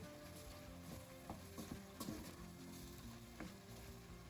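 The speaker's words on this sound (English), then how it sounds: "I add the broccoli to the rest of the veg and stir." Broccoli and mixed vegetables are stirred into a simmering meat sauce for a slow cooked beef lasagna, with soft scraping strokes and light sizzling at a quiet, close level.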